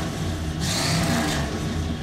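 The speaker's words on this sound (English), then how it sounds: "Has a little bit of a rattle from a loose muffler hanger, but still," Engine and exhaust of a 1966 Chrysler Imperial Crown convertible, with a loose muffler hanger, running steadily with a low rumble and a brief rev partway through, close by with no talk.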